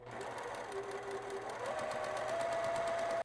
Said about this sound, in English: So now I get to start sewing these pieces together.